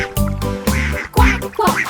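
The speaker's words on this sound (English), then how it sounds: "2 happy ducks." Cartoon duck quacks from a children's counting song, a few distinct, close, evenly spaced quacks in quick succession over a musical background.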